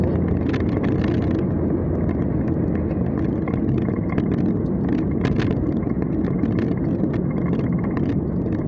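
An NPM bus cruising at up to 100 km/h on the Merak–Jakarta toll road in August 2020, a steady broadband road and wind roar with no talk.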